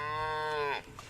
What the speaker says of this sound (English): Cows are with me, milling about, and I hear them mooing.